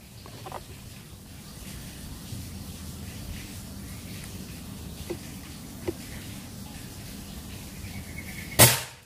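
A single sharp, loud crack from a Black Bullpup Yumaja 60 cm air rifle with a Monel barrel, charged to 4000 psi, fires near the end of the stretch, after a long quiet outdoor hush with faint background noise.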